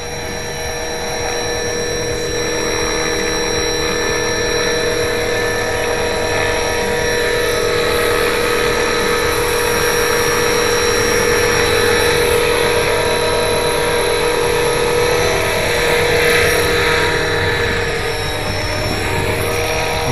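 HK450 RC helicopter with a fuselage and Flymentor 3D stabilizer flying, a steady loud high-pitched whine of motor and rotor that holds constant throughout with a slight swell near the end.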